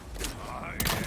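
Gunfire aimed at an enemy in Resident Evil 4: two sharp, loud shots with a short gap between them, the second one louder and more forceful.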